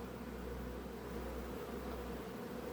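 A dense, steady hum of many honeybees buzzing together at a hive affected by chalkbrood disease, close and continuous, with no other sounds.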